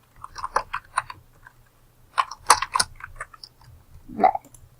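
Keystrokes on a computer keyboard come in two short bursts of close, crisp taps with a pause between, a low hum underneath and no talk.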